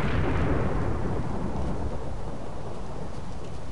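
Thunder from a lightning strike in the Minecraft video game rolls out as one loud, broad rumbling crack that slowly fades, alone with no talk.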